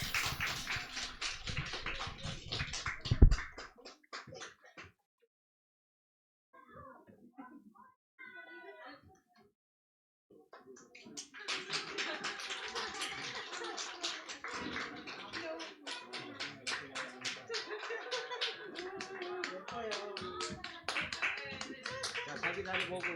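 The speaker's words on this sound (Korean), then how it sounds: "박수로 환영해 주세요" A church congregation applauding at a Sunday service to welcome the children's department, clapping at first, then a near-silent lull with a voice, then renewed sustained applause with talk mixed in.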